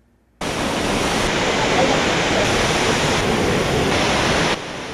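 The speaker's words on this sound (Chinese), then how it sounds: "黄果树瀑布气势磅礴" Huangguoshu Waterfall in Guizhou pours in a steady, loud, broadband roar of falling water that holds constant for several seconds before easing slightly at the end, with no voices heard.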